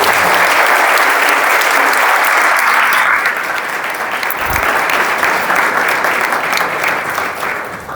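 Loud, close audience applause for a bishop at a church gathering about Saint Francis, continuous dense clapping that holds steady for several seconds before easing slightly.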